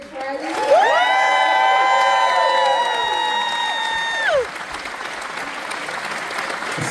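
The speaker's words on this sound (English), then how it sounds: "Let's give a round of applause to Boots Riley" A crowd at a Q&A event applauds and cheers for Boots Riley, loud sustained clapping topped by high whoops and shouts that ease off after a few seconds while the clapping continues.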